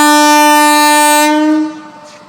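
A train sounds a loud, sustained horn as it pulls away. The tone holds steady for about a second and a half, then fades as the train moves off.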